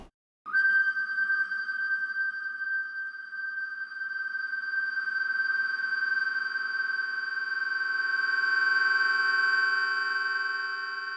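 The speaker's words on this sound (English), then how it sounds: "Now I'm going to send the delay back into the reverb." A synthesized tone in Ableton Live, with its delay fed back into a reverb, starts after a brief silence. It then rings as a sustained, bright, pure pitch that swells slightly in a wash of reverberant echo.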